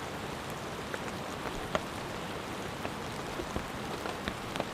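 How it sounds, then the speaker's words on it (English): Light rain pattering on a tarp in a forest during a cold day camp, a steady soft hiss of drops with occasional louder individual plinks and no voices. "it is raining, but it's not very, very heavy"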